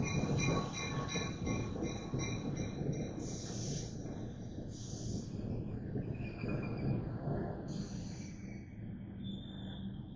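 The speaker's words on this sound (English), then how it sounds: "arriving on track E is the New Jersey Transit 9:16 inbound train to Hoboken" New Jersey Transit inbound train arriving at a station platform, a steady rolling rumble with squealing brake tones, heard alone at moderate distance.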